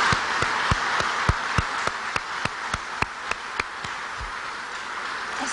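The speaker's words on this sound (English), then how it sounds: "Let's give them a big round of applause." At a government announcement for a riverfront project, an audience applauds with a steady wash of clapping, punctuated by strong evenly spaced thumps that sound like a rhythmic beat under the crowd.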